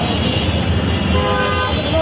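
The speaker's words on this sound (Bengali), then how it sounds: "রাজধানী ঢাকার ব্যস্ততম এলাকায় হর্ন সবসময় বাজতে থাকে" Traffic at a busy eight-road intersection in Dhaka, with car horns tooting over a dense, loud, continuous roar of engines and street noise.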